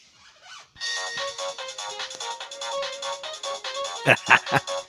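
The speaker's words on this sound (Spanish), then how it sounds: "Los politonos que tenían un sonido asqueroso e imposible." A polyphonic mobile phone ringtone plays a tinny electronic melody in stepped synthetic tones, loud and alone, ending in a few sharp bursts.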